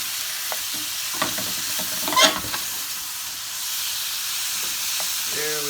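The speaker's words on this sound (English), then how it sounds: "The tomatoes go in, here it goes, and you just mix" Tomatoes being stirred into a sizzling egg curry sauce in a pan, a steady frying hiss with a few scraping stirs, close and fairly quiet.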